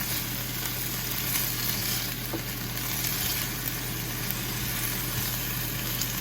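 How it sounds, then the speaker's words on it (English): Sliced bell peppers sauté in a hot pan, giving off a steady, close, even sizzle that holds without a break and with no voices over it. "So I'm just gonna go ahead and let these peppers kind of saute up"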